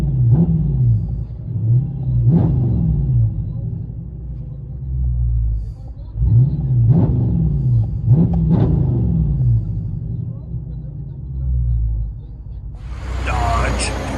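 A Dodge Charger Scat Pack with a 6.4L HEMI V8 and race bullet exhaust gives repeated deep, rumbling revs, several blips rising and falling close by, then a brief hiss at the end.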